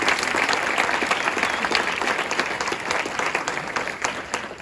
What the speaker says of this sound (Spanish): Denle un fuerte aplauso a Dios en esta mañana.